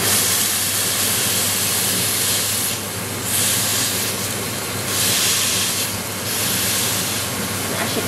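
Burger patties, still rolled into balls, sizzle in a pan as they cook before being smashed flat. The hiss is steady and fairly loud, with no talk.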